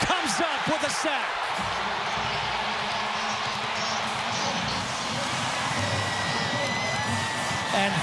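A college football stadium crowd at Oklahoma State roars after a defensive sack against Kansas State, a steady, loud wall of cheering and whoops with a few bouncing thuds and a commentator talking early on.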